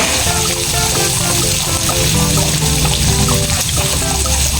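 Onions sautéing in a pan for pork sinigang, a loud continuous sizzling hiss close up with stirring, and a faint tonal hum running underneath.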